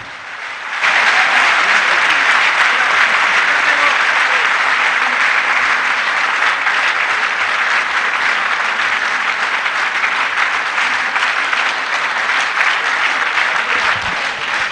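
Audience at a yoga event in Delhi breaks into loud, sustained applause that starts abruptly and keeps up at a full, even level throughout.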